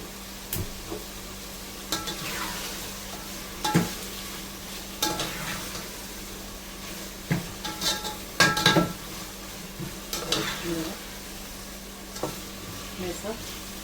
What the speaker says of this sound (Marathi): टॅमॅटो त्याला शिजला पाहिजे नरम पडला पाहिजे टॅमॅटो सारखं परतत बसायचं इथे